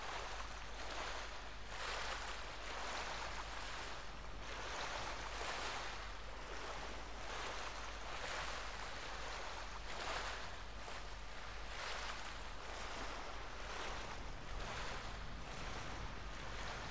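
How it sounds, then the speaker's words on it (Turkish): Ocean waves in the video game Ghost of Tsushima, a faint, continuous wash of surf with soft rhythmic swells and a wind-like hiss throughout, no voices. "Bunun dalgalara bak, fena vuruyor ha."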